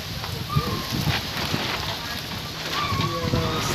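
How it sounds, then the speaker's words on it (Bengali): Heavy rain and wind from Cyclone Remal pound a town in Jamalpur, a constant hiss of downpour with gusty swells and scattered drips and knocks, loud and close throughout. "অনেক ঝড় বৃষ্টি হচ্ছে আজকে।"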